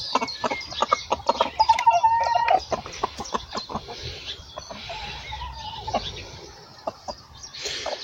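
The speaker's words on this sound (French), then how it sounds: "Nouveau coq dans la basse-cour." A newly introduced rooster crows hoarsely and clucks in a farmyard henhouse, with repeated close, loud calls and clucks through most of the stretch, no speech.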